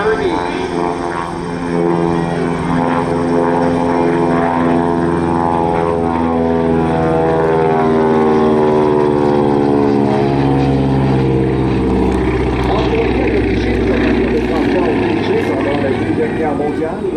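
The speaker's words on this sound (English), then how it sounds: "The V-Fuel piston engine generating over 450 horsepower each." A piston-engine propeller aircraft with engines of over 450 horsepower each drones loud and steady at the Aero Gatineau 2025 air show, its deep throbbing tone shifting slightly as it passes, with a voice talking over it.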